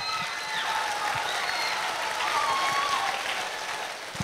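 An audience at a closing ceremony in a hall gives sustained, dense applause, a steady roar of many hands clapping for several seconds, loud and enveloping, with a few faint voices underneath.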